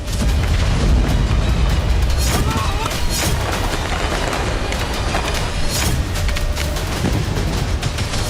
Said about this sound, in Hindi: हमास लगातार रॉकेट बरसा रहा है।